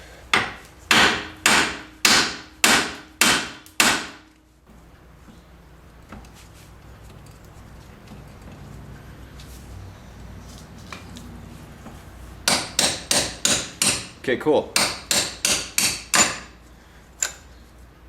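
Sharp metallic hammer blows on a car's steering knuckle ring out in a quick series of about six strikes, a pause with faint background noise and brief talk, then another rapid burst of hits.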